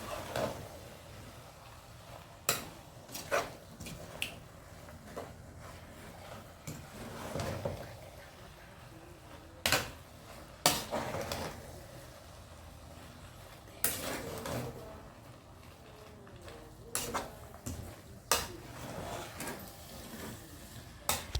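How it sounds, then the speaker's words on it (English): A spoon scrapes and clanks against a small pot crammed with vegetables for a sauce, in repeated sharp metallic knocks and stirring scrapes spread unevenly over a quiet background. "it took quite some time to be able to stir the ingredients so it can mix properly"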